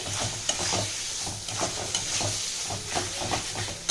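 Spice masala for a mutton curry is sautéed in a pan, giving a close, steady sizzle broken by rhythmic scraping and stirring strokes of a spoon.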